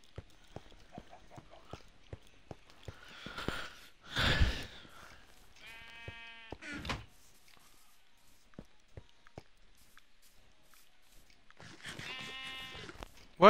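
Sheep bleat in the video game Minecraft, two clear wavering bleats several seconds apart over quiet clicks and soft footsteps, with a few other brief game sounds between them.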